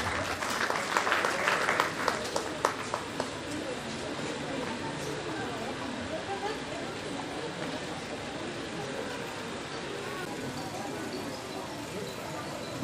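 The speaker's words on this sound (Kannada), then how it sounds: "ಚಪ್ಪಾಳೆ ಮಾಡಿ." Applause from an audience at an honouring ceremony in Bidar, a dense burst of clapping up front that thins into a steady crowd murmur with faint talk underneath.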